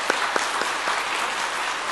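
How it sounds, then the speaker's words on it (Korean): A church congregation at Sunday worship claps to welcome newly registered members: a short, steady burst of crowd applause filling the room, with faint voices underneath. "이 시간 인사하실 때 박수로 환영하는 시간을 갖도록 하겠습니다"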